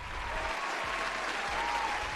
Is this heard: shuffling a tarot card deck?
no